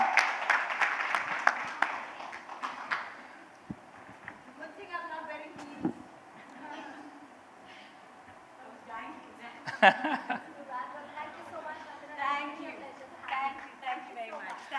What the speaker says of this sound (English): A big round of applause for Mandira Bedi.